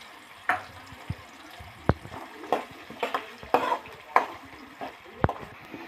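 Onions fry with curry leaves in a pan for veg fried rice, a low sizzle under repeated clacks of a spatula against the pan, stirred at an uneven, unhurried pace, close and with no talk.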